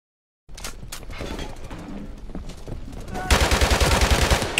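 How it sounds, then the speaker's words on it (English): Rapid gunfire in Modern Warfare 1 Remastered, with scattered shots through a building that swell into a loud, dense burst of automatic fire toward the end. "You're shooting the stairs. Why are you shooting the stairs, guys?"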